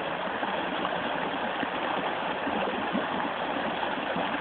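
Stream water flows in a steady, even rush, a continuous broadband wash with no voices over it, like a creek where people sit fishing.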